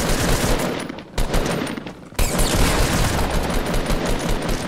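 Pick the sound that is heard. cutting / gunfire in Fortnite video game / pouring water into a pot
gunfire in Fortnite video game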